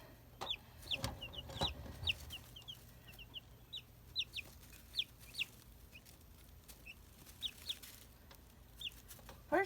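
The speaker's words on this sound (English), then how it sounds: "First little live chicken cam." Backyard chickens cluck in short, scattered bursts over a quiet outdoor background, fairly close, with no one talking.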